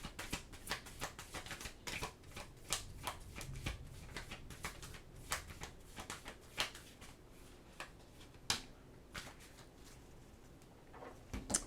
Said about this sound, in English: let me get your oracle card here so I can get you out of here